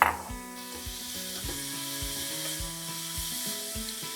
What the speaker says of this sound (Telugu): క్యారెట్ తురుము నెయ్యిలో మంచిగా వేగనివ్వాలి